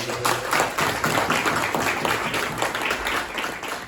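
Audience at a regional business meeting applauding, a dense, steady wash of many hands clapping throughout, fairly close and loud.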